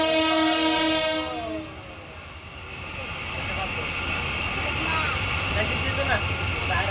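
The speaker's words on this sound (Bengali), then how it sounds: "এই যে ও ট্রেন ছেড়ে দিয়েছে, ধীরে ধীরে চলতেছে।" A train pulls away slowly from Kishoreganj station, opening with a long sustained horn blast that fades, followed by a low rumble of rolling wheels and carriages, with a voice talking over it.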